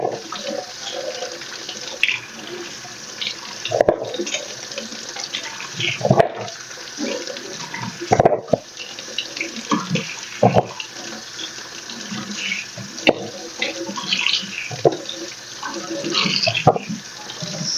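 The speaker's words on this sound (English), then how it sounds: "So I'm just washing all the fruits that I will be needing for this juice drink." Tap water runs into a sink while fruits are washed for a juice drink, a steady splashing stream broken by louder bursts and knocks as the fruit is handled under the flow.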